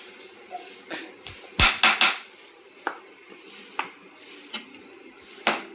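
A spoon stirs chilli powder and coriander powder in a cooking pan for an olan dish, giving sparse, close metallic clinks and taps with a brief cluster of sharper knocks near the middle. No one speaks.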